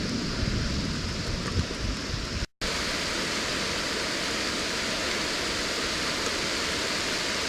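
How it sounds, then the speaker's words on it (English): Heavy rainstorm pouring down on a river while sheltering under a large tree's roots, a dense, loud, continuous hiss of rain broken by a very brief gap. "It's pouring down rain."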